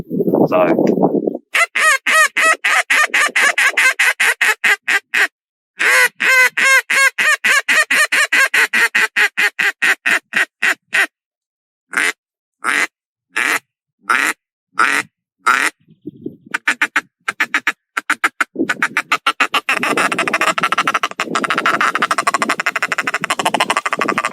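An acrylic duck call blares a run of rapid chuckles, then spaced single quacks, loud and close, ending in a fast rattling series.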